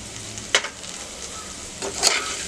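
Cauliflower and peas sauté in a pan, a steady close sizzle broken by two sharp scrapes of a spatula stirring the vegetables, with no voices.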